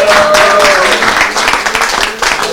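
A live audience at a traditional-modern music event breaks into dense applause, a loud continuous wash of clapping close by with some voices mixed in.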